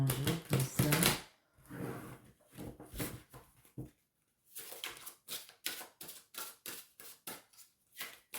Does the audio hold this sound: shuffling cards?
yes